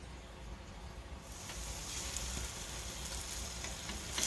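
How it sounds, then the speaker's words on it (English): Steak searing in 3 to 4 tablespoons of hot oil in a pan gives off a steady, fairly quiet sizzle that swells a little as it goes on, with no voices. "So we're just going to sear these."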